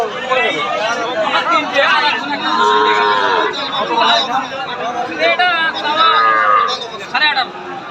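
Cattle at a cow market, with lowing and moos rising through a dense babble of nearby people talking throughout, the animals partly masked by the crowd chatter.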